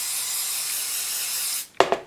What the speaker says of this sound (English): You want to douse it in the hairspray before you brush